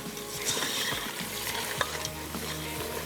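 Onions frying in oil for kunna paya sizzle steadily and close up, with stirring scrapes and light clatter running through the whole stretch.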